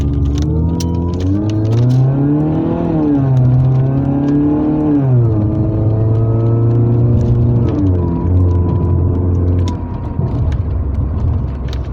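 A Mercedes-Benz 230 Kompressor engine accelerates with a sustained, loud, close drone whose pitch climbs, dips briefly, then rises and settles as the car pulls smoothly.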